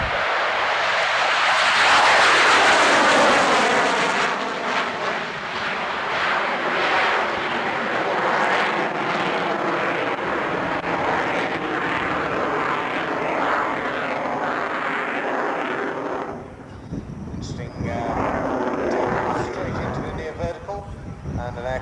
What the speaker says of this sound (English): this is the final manoeuvre of the Patrouille de France, the 8 Alpha Jets.